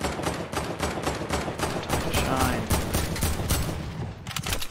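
Video game gunfire rattles in rapid, steady bursts for nearly five seconds, loud and close, with faint voices underneath.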